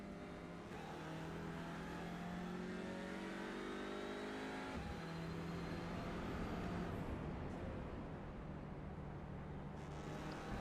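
Race cars lapping Watkins Glen in iRacing, from the TCR and Miata classes, engines droning and revving continuously at close range as they shift gears through corners, with no voices.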